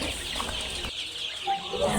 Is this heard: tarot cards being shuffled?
no